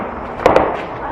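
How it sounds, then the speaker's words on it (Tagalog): Fireworks pop in the distance, two quick muffled bangs close together over low background noise. "May fireworks ulit?"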